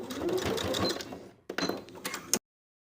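A sewing machine bastes the edges of a fabric loop on a blouse, a close, rapid whirring stitch run that stops briefly, then resumes in short bursts.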